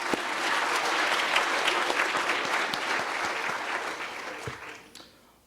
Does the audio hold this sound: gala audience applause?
yes